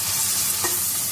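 Tomatoes sauté in a hot pan for crab curry, giving a steady, close sizzle of frying with a brief stirring scrape partway through and no talking.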